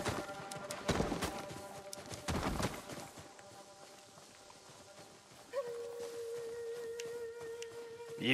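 Horse hooves clip-clop in the video game Ghost of Tsushima, a short run of rhythmic beats near the start that fades under steady game ambience, with a sustained tone entering later.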